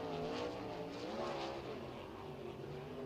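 A sprint race car engine throttled up at Eldora Speedway, a steady rising and falling roar heard from a distance, moderately faint and continuous throughout.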